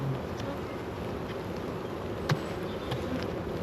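Honey bees hum steadily from an open hive of calm, placid colony on a brood frame, a dense continuous drone at close range with a brief knock partway through.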